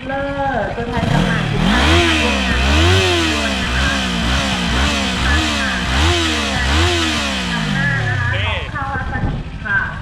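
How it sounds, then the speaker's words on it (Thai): Kawasaki Eliminator 400 motorcycle engine revved repeatedly toward maximum rpm, loud and close, with a pulsing series of rising and falling revs before it settles back down. "ทีนี้ครับผมจะลองรอบสูงสุดให้ทุกคนดูนะครับ"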